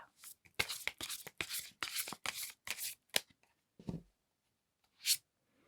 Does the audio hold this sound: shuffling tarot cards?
yes